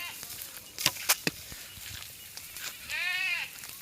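Sheep and goats of a herder's flock bleat while being driven home along a path, a few short distinct calls near the mic followed by a longer wavering bleat, over faint outdoor background.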